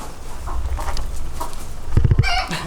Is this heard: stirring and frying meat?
no